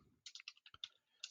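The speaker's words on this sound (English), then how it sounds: "typing so slow" Keys on a computer keyboard are typed in a short, uneven run of about ten soft clicks, faint and close, with brief pauses between groups of strokes.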